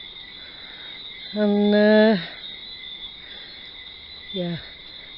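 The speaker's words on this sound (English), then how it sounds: "The whistling frogs are going absolutely bananas" A steady high-pitched chorus of whistling frogs fills the night air during Hurricane Humberto in 2019, while a person briefly speaks over it.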